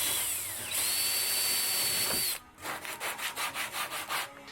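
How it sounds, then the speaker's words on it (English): Power drill boring into wood with a Forstner bit, a steady whining grind that stops abruptly, followed by a rhythmic series of rubbing scrapes. "I used a Forstner bit to make clearance for that"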